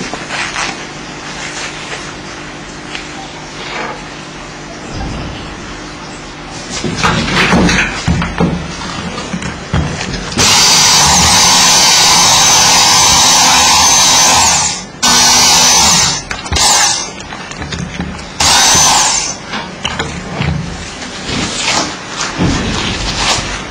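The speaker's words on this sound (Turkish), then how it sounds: "Bunun için yine üzerindeki e, perçini sökmemiz gerekecek. Bunu matkap yardımıyla yapacağız." A power drill whirs loudly in several bursts, drilling out a metal rivet with stops and restarts, mixed with handling clatter and knocks.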